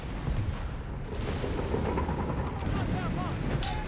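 Mortar barrage in the strategy game Company of Heroes 3, a continuous dense rumble of explosions and distant booms layered with battlefield noise, steady and loud throughout.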